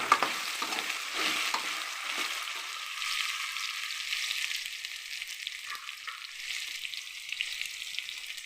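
Raw plantain slices fry in oil over high heat, a loud, steady, close sizzle with crackling bursts that eases slightly but stays continuous throughout, with no voices.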